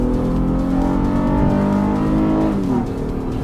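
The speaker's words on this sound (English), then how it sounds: "you hear that change in the engine tone? That's VTEC." A 2019 Honda Pilot engine drones steadily under load while climbing, then its tone shifts noticeably as VTEC engages, the pitch jumping and the note changing character near the end.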